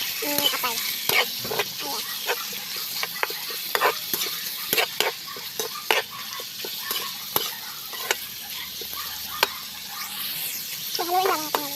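Chicken gizzards fry in a pan under a quiet sizzle, with frequent sharp clicks and scrapes of a spatula stirring them, and some faint background noise.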